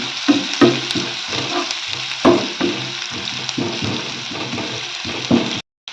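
Green chillies and onion frying together in a pan, a continuous close sizzle with rhythmic scraping knocks of a spatula stirring, loud and with no talk, ending abruptly.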